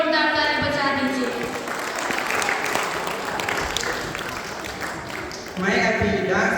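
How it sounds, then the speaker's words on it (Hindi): Loud, sustained applause from a school audience at a Class 8 farewell function, steady clapping filling the hall for several seconds with a brief dip and a renewed swell near the end. "इस सुंदर वचनों के लिए जोरदार ताली बजा दीजिए।"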